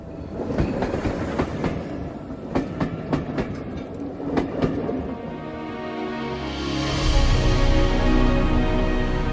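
A train rolls along its tracks in the Democratic Republic of Congo with rhythmic clickety-clack wheel beats, then settles into a steadier, louder rumble and hiss as it continues.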